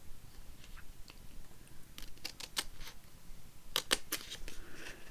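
Scissors snipping a paper piece for a Tim Holtz-style accordion book, a few faint crisp cuts followed by a quicker close cluster of snips in a quiet room.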